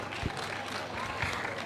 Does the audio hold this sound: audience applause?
yes